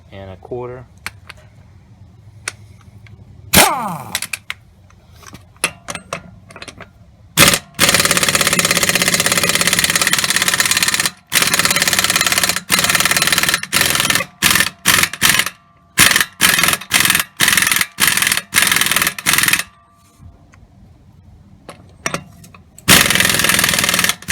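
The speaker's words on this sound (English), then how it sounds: "we need to loosen the lug nut on the CV axle" Loosening the 1 1/4 inch CV axle nut on a 2014 Chevrolet Malibu: a long run of loud, rapid, rattling bursts, like an impact wrench, broken by short pauses, with a few clinks and movements before it starts.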